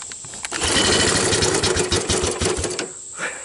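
A 1987 Honda TRX125 ATV with a dead battery being pull started: the engine catches and sputters along in a rapid, rough mechanical chatter for about two seconds before cutting out, loud and close.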